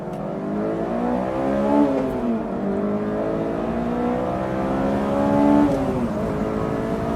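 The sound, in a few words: Honda S2000 engine revving to 9,000 RPM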